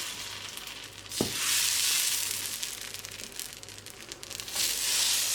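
Palappam batter, made without coconut, hits a hot appam pan and bursts into a bright, hissing sizzle that swells and holds at moderate loudness, with a brief knock of the pan first.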